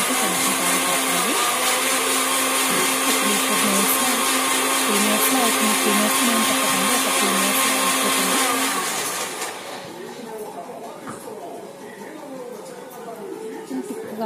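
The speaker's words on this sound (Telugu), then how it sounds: "మనం కొంచెం కాజు బాదం వేసుకున్నాం కదా, అవి గ్రైండ్ కావడానికి కొంచెం టైం పడుతుంది" A blender grinds a banana milkshake with cashews and almonds, a steady loud whirring roar that runs for several seconds and then drops to a lower, lighter whir as the nuts break down.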